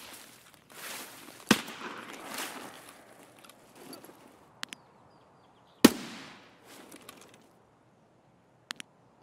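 Sniper gunshots in Escape from Tarkov: two sharp, loud cracks several seconds apart, each trailing off in a short echo, with quiet footsteps and faint ticks between them and no talking.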